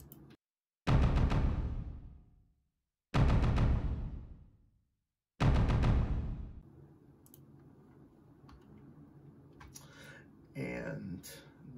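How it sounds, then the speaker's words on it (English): A limestone container struck as a low tom percussion sample, three loud, booming hits with long ringing decays separated by silence, followed by quiet background and faint clicks. "This is the limestone container."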